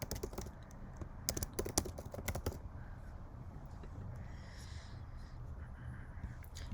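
Quiet typing on a computer keyboard while entering an email address, a quick flurry of clicky keystrokes at the start followed by softer, sparse taps over low room hiss.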